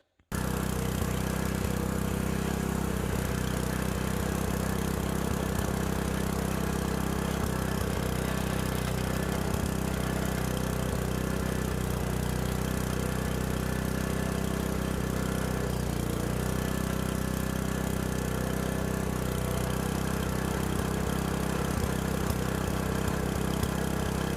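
A repaired tiller's small engine runs steadily for the whole stretch, a constant, moderately loud mechanical drone with no talking over it.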